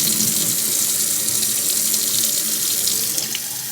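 Tap water runs steadily into a sink while tomato seeds are rinsed, a continuous close splashing hiss that fades slightly at the end.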